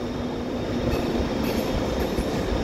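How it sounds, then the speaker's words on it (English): A Bombardier Twin Deck suburban city shuttle train rolls past close by, a continuous loud rumble of wheels and coaches lasting the whole moment with no pauses. "these do look like Bombardier Twin Decks coaches"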